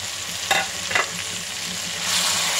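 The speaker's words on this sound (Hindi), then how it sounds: "और चिकन को भी फ्राई कर लेंगे।" Chicken pieces fry in a hot pan for Chinese-style restaurant rice, giving a loud continuous close sizzle broken by a couple of stirring scrapes, with no talk.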